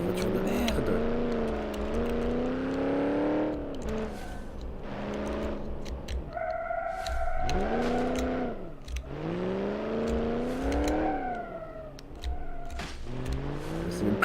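Engine of a V8 car in BeamNG.drive, rising and falling revs with whining tonal sweeps across repeated accelerations, loud and continuous, with a voice talking at points.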